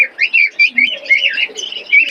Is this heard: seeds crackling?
no